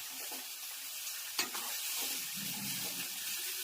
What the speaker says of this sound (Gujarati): તલવાળા મસ્ત મજાનો વઘાર